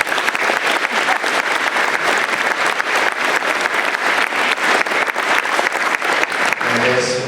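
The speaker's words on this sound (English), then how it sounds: "So a round of applause for our senior class." A school awards night crowd gives the senior class loud, sustained applause, dense clapping that fills the whole stretch at close range before easing slightly at the very end.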